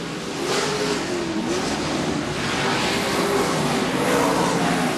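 Off-road race trucks roar past at a championship off-road race at Chula Vista, with a dense, loud wash of engine noise and rising and falling revs under a roaring crowd-like hiss.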